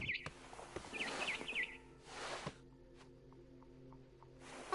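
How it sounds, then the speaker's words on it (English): A barn swallow chirps outside a window in What Remains of Edith Finch, giving a few quick, faint high tweets early on. Soft rustling bursts and a low steady room hum run underneath, with no voices. "Then I heard chirping outside my window. It was a barn swallow going back to her nest."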